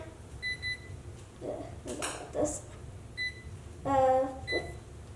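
Kitchen timer being set while cooking, giving short, high electronic beeps in separate pairs and a longer ringing tone, close by, with a child and an adult talking between the beeps.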